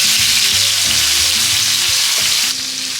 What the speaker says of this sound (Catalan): Aquí fregirem ara les gambes,